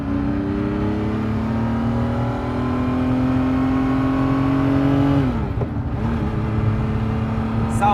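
A 1995 Ferrari F50 with its V12 engine revs steadily under load as the car drives, a loud close engine tone climbing gradually, then dropping sharply at a gear change before pulling again.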